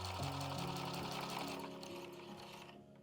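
A sewing machine runs steadily, stitching a fabric shoulder bag, a close, continuous motor whir with a fast needle rhythm that slows and stops near the end.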